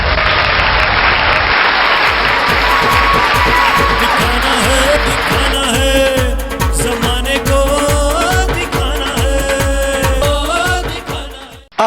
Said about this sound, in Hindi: जोरदार तालियों से वेलकम ऑन द स्टेज।